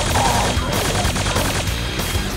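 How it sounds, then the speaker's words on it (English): Quake 2's Hyper Blaster, a rapid-firing energy cannon, unleashes a dense, continuous barrage of loud overlapping energy shots with crashing impacts. "you also get the Hyper Blaster, a rapid-firing energy cannon"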